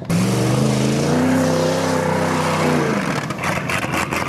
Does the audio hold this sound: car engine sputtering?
yes